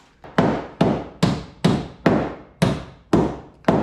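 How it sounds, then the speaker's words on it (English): Sharp metallic hammer blows drive a part in while an LS V8 is installed in a Jeep Wrangler, nine evenly spaced strikes each ringing briefly, loud and close. "So I need to go grab a hammer, hammer it in"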